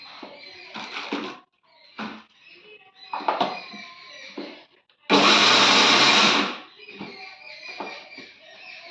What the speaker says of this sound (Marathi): त्यांना अशा साध्याच मिक्सरमधून हलवून घेते